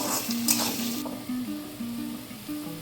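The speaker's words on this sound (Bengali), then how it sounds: "পেঁয়াজটাকে আমি ভালো করে ভেজে নেব" Onions sizzling steadily in a hot pan for a Bengali chicken dak bungalow dish, with continuous crackling frying and a tonal music line running underneath.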